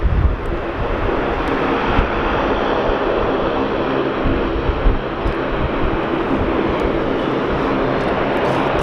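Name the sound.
Qantas airliner just landed at windy Sydney Airport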